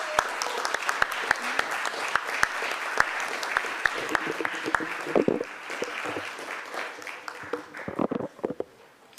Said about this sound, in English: Can we all just stand up for a brief moment and then give him a round of applause?